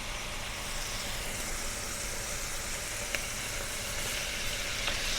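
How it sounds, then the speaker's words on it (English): Curry powder fries and browns in hot oil, giving a steady, dense sizzle throughout with a faint tick or two of stirring. "And I let that curry brown."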